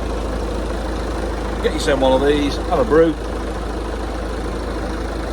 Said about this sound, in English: we started the engine on this and we're just going to let it idle on the driveway here until the engine's up to temperature